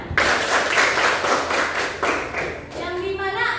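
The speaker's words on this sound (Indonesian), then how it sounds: "Tepuk tangan." Students in an Indonesian geography class clap together in a lively burst of applause: a steady run of sharp, close hand claps that trails off near the end.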